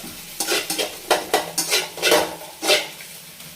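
Egg bhurji sizzling in a pan while a utensil stirs and scrapes it in quick, uneven strokes, with metallic clinks against the pan, close and fairly loud, no voices.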